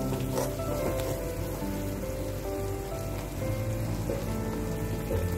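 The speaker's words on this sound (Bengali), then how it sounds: "গ্যাস কমিয়ে মশলাটা আমি খুব ভালোভাবে কষিয়ে নেব" Loud continuous sizzle and spatter of ground spice paste frying over low heat for masala paneer, close up with a dense crackling hiss throughout.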